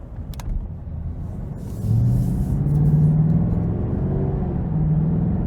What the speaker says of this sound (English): let's go ahead and take this LT1 convertible out on the road for a quick test drive